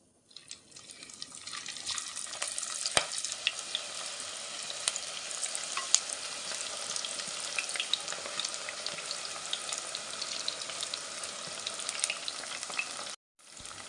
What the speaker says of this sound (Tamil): மீனை வந்து நம்ம கொஞ்சம் கொஞ்சமாக போட்டு பொறிச்சு எடுத்துக்கலாம்